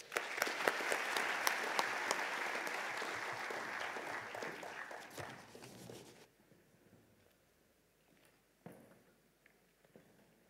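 Applause from a conference audience at a forum's opening session, a dense, fairly quiet crowd clap with a few crisp nearer hits that fades out after about six seconds, leaving near silence with a couple of stray knocks.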